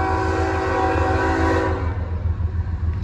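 CSX M301 freight train passing at Prospect Park, Pennsylvania: a loud, close rumble of rolling cars with a sustained horn blast over it, fading slightly toward the end.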